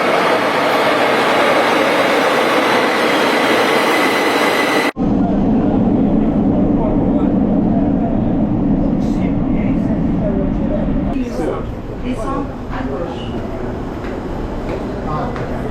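Riding aboard an Algiers metro train, a loud steady rumble and rolling hum inside the carriage with a sharp cut midway, then softer running noise with scattered clatters and faint background voices.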